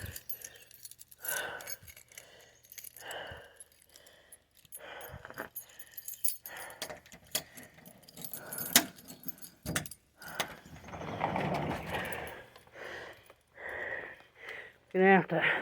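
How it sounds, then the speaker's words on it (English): A set of keys jangles repeatedly in short bursts, close and clear, as someone fishes them out beside a car, with rustling and a brief voice in between. "Get my keys."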